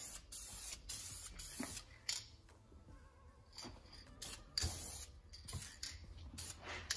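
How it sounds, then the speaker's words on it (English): Short bursts of spray paint hiss in quick succession, a quick test spray on engine parts for a destroked 6-litre LS build, with clicks from the can's nozzle between them, close by and fairly quiet. "quick test spray"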